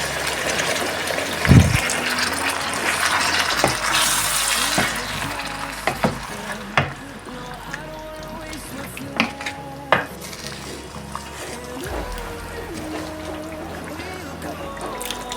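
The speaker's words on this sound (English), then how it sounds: "Add in the boiling water." Boiling water poured into a pot of Jamaican curry mutton, three pounds of meat cooking in its own juices, giving a loud sizzle and bubbling hiss with spoon stirring and pot clatter throughout.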